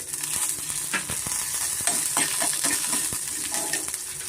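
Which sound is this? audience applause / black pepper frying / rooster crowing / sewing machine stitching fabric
black pepper frying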